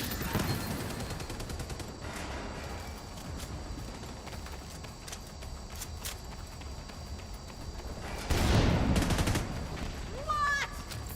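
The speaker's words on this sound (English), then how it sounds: "Suppressive fire's got me pinned down." Gunfire from suppressive fire in the video game Division 2, a steady run of sharp shots over ongoing battle noise, swelling into a louder, denser burst near the end.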